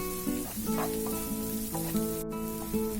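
Spice powders and turmeric for chicken tikka masala fry in oil with a continuous soft hiss, heard under background music with steady melodic tones.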